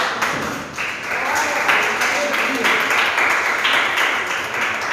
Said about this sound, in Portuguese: Vamos dar a salva de palmas